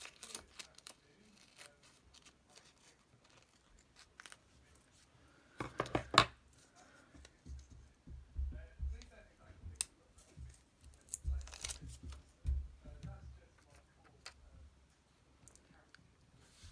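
Paper pieces being cut out for a traveler's notebook setup, quiet close snips and crinkles of paper, sparse and irregular, with a brief rustle partway through and faint soft handling noises.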